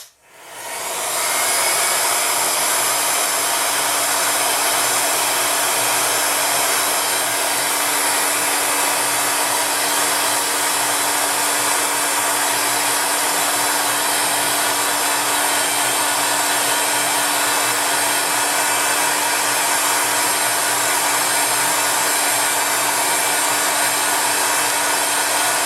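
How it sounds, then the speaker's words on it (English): A heat gun blasting hot air over polymer clay: a steady, loud whooshing roar with a faint whine that starts abruptly and holds unchanged throughout, with no talking. "So here's my heat gun. I showed you that before. I'm going to switch it on."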